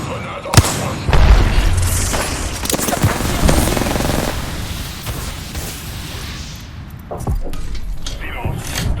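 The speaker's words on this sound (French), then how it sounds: "Grenade en approche." A grenade detonates with a loud close boom in the battle royale game Apex Legends, surrounded by rattling bursts of automatic gunfire and further sharp shots, all heavy and near.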